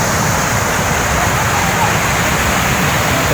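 Water rushing over the San Miguel dam in Compostela, Davao de Oro, a loud steady roar of flowing water that fills the whole moment without pause.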